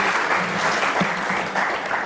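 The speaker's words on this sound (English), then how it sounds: "Give everyone a round of applause for their questions." Brief, steady applause from a civic audience at a State of the City address, a dense mid-volume patter of clapping that runs evenly throughout.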